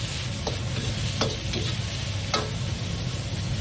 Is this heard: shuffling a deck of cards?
no